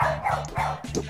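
A player in Rec Room imitates a dog with his voice, giving a few short, yappy barks in quick succession, loud and close.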